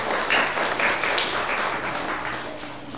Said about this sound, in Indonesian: Kita beri apresiasi tepuk tangan kepada adik-adik kita.